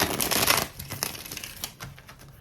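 Tarot cards being shuffled up close, a dense riffling burst followed by scattered quieter flicks and taps.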